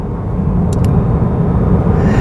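A 2017 Lexus IS 350 F Sport accelerates hard in Sport mode, giving a loud, sustained engine roar that rumbles low and holds steady throughout the brief burst.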